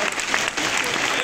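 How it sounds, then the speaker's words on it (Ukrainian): An audience at a live charity auction bursts into loud, sustained applause, dense clapping that fills the room evenly for the whole moment. "Ваші оплески!"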